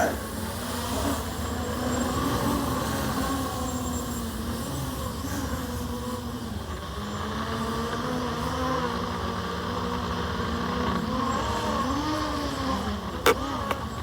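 MJX Bugs 3 brushless quadcopter drone in flight, a steady buzzing motor whine with shifting pitch as throttle and attitude change, continuous and fairly loud throughout, with a sharp click near the end.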